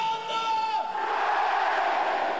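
A football crowd cheers and shouts loudly and steadily at a championship celebration at Barfüsserplatz in Basel, a dense roar of many voices close by with no pauses.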